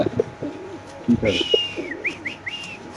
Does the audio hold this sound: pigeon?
yes